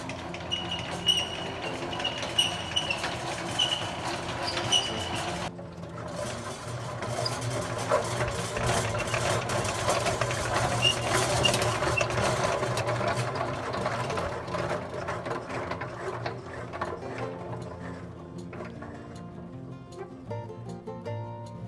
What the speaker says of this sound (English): And now let's spin the other side up.